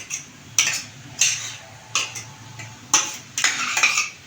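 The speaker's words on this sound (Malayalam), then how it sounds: "അതും കൂടെ ഒന്ന് ചതച്ച് വെച്ചത്. ഇതിലിട്ടിട്ടൊന്ന് ഇളക്കുക." Crushed small onions stirred in a pan for a papaya dish: a series of spaced, close metallic scrapes and clinks from a spoon against the pan, about six strokes over a low hum.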